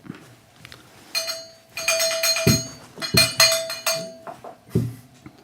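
A small hand bell is rung several times in quick bursts at close range, each ring bright and ringing briefly before fading, with short quiet gaps between the shakes.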